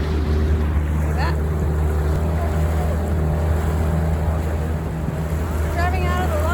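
A boat motors out of Lagos Bay in Portugal, its engine giving a steady low drone under constant wind rush and water noise. Close and loud, with no clear talk.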